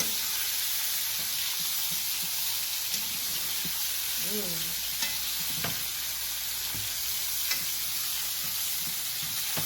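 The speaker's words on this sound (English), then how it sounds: "we're going to let this sear" Lamb chops sear in a pan with a steady, bright hiss and sizzle, broken by a few soft clicks and utensil taps, and a brief murmured voice sounds in the background.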